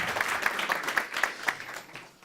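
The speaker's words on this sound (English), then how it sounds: "Give Jonas an applause." Moderate applause greets Halmstad mayor Jonas Bergman taking the stage at an airport event, a loose patter of clapping with a few sharper claps standing out, heard at middle distance and fading toward the end.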